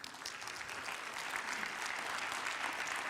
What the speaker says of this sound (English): if we can give us a little round of applause